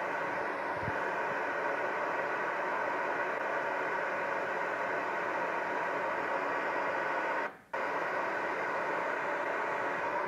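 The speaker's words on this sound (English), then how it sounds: "let's bring back our pink noise generator here for a second" Steady broadband pink noise from a test generator plays through loudspeakers in a room, a continuous hiss that holds evenly for about ten seconds with one brief dropout near the end.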